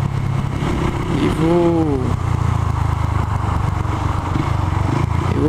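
A motorcycle engine runs steadily and loudly close by at an open lot used for car stunts, with a brief higher whine of rising revs partway through and a constant low rumble throughout.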